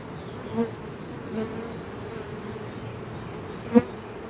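A steady, droning buzz of many honeybees close by, with a few brief louder passes as single bees fly near.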